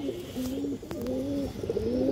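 Khaki pigeons of an old breed coo in steady, rolling low calls, repeated several times close by over a constant background hiss, with no talking.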